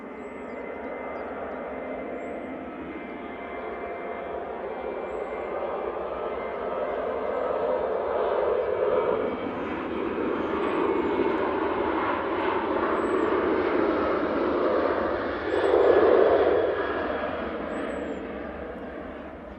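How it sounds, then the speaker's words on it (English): Boeing 737-800 jet departing Manchester Airport for Palma de Mallorca, a steady broadband engine roar that swells gradually and peaks near the end, heard from a distance outdoors with no talk. "this 737-800 is off to Palma de Mallorca."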